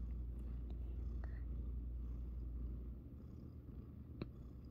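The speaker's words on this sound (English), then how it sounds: "He's purring." A soft, steady low purr rumbles close by, quiet and continuous, easing slightly toward the end.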